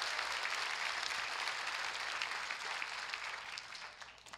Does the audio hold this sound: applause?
yes